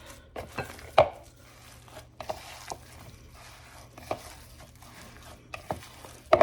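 A Salisbury steak meat mixture is mixed by hand in a bowl, with quiet squelching and occasional sharp knocks and taps in an irregular rhythm, fairly close.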